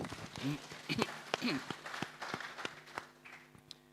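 An audience at a question-and-answer session on Vasudhaiva Kutumbakam teachings gives scattered, fairly quiet hand claps. The sharp claps arrive irregularly over a few seconds, mixed with voices in the room.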